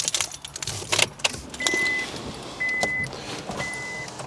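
A car ignition is switched on, with keys jangling and a click up close, then three short electronic chimes at even intervals, and no one speaking.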